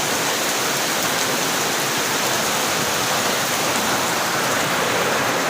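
Floodwater rushes steadily across a yard during Typhoon Odette, a dense, continuous roar of water with no pauses, loud and close throughout.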